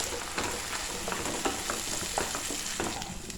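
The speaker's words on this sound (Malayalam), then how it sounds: "നന്നായിട്ടൊന്ന് മിക്സ് ചെയ്ത് കൊടുക്കാം" Kerala-style fish perattu gravy is stirred in a pan over a low flame, giving a steady soft sizzle broken by light, repeated scraping strokes of the spoon, with no voices.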